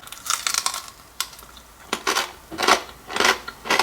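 A knife cuts into crispy pork belly crackling cooked in a Ninja Foodi, making a string of sharp, close crunches and snaps in uneven bursts, loud and alone without talk.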